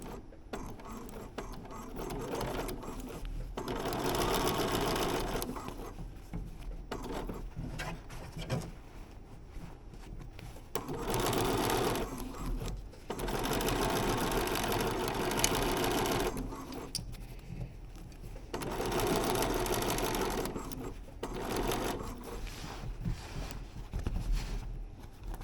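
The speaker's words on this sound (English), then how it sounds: "Just sewed past where I meant to." A sewing machine stitches the collar and neckline of a men's shirt with snaps. It runs in several sustained mechanical bursts of a few seconds each, separated by short quiet pauses.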